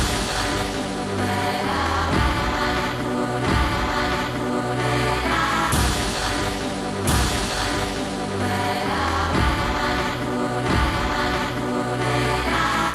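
Soloed chops of a sampled piece pitched down in a loop, dense hazy music repeating in a steady pattern, loud and alone.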